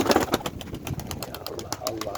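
Pigeons coo softly and steadily at close range, their low repeated calls mixed with faint rustling and light background chatter.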